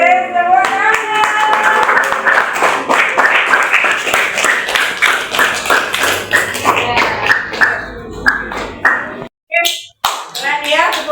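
A classroom of students claps together in dense, rapid, fairly close applause under lively voices; the clapping thins out toward the end, then stops as talking resumes.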